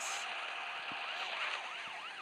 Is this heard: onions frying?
no